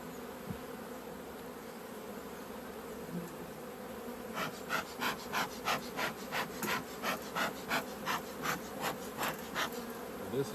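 Honey bees hum steadily inside a crowded hive box, a close continuous drone, joined midway by a rhythmic series of regular pulsing puffs repeating about twice a second.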